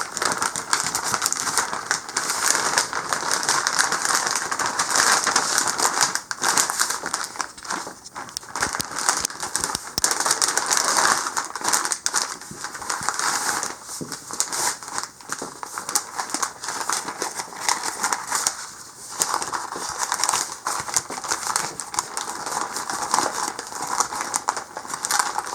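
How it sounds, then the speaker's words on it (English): Butcher paper crinkles and rustles continuously as it is folded tightly around a smoked beef brisket, close and steady, with no talking. "when you wrap it in butcher paper, you want to make sure that it's nice and tight"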